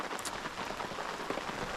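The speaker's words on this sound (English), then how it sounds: "Step out here, and yeah, it's bloody raining." Rain falls steadily at a river campsite, a soft, even hiss with scattered faint patters of drops, quiet and continuous throughout.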